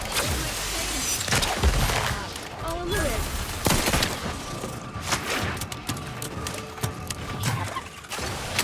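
Gunfire in The Outer Worlds 2 during a firefight: repeated sharp shots and bursts over a busy battle din, with voices shouting now and then.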